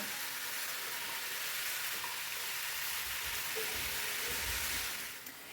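Apples for a pie filling sizzling in a pan, a steady, even frying hiss with faint bubbling, close and continuous before easing off at the very end.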